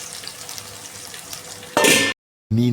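Curry leaves and masala sizzle and fry in hot oil, a dense, steady crackle that flares sharply louder near the end, cuts out briefly, then resumes.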